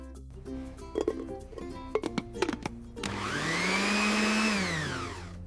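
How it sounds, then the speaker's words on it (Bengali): A kitchen blender motor spins up after a few scattered clicks and tones, whirring loudly with a rising then falling whine for about two seconds before winding down. "এটা হলো ব্লেন্ডার।"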